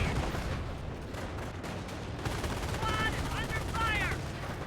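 Dense, continuous gunfire rattles at Panzer Grenadiers in the video game Company of Heroes, with overlapping bursts throughout and faint game voices near the end.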